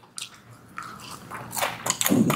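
Biting into crispy fried pork leg skin, crispy pata, gives close, loud crunches, a sharp crack followed by a burst of crackling chews that grows louder toward the end.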